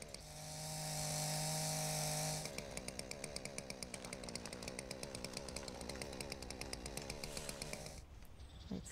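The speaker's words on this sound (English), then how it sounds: "Oh, I've got a chainsaw." A chainsaw revs in the Dino Fossil Hunter video game, starting with a steady high whine, then settling into a loud, rapidly pulsing chatter that runs for several seconds before cutting off abruptly.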